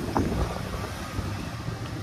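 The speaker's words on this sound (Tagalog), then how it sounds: "Lakas ang hangin." Strong gusting wind buffets the microphone outdoors beside a Nissan Sentra under repair, a constant low rumbling roar with no clear speech.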